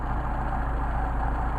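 A Mercedes 190SL engine with Solex carburetors idles steadily nearby, a loud, even low-pitched rumble with no change in speed.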